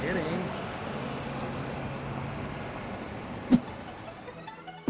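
A car on a long drive home after a Christmas party at Mt Wilson, with a steady broadband road and engine rumble throughout and a single sharp knock or thump near the end.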